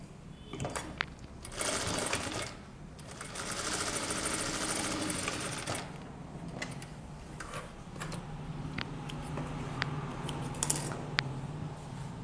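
A sewing machine runs steadily as it lays a central stitch on fabric, its fast mechanical whir continuing through the clip with a few short pauses and small clicks in between.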